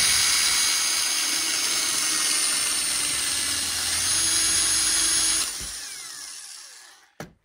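A power drill whines steadily at close range for several seconds while drilling a hole in a cigar box guitar, then spins down and stops, followed by a brief knock.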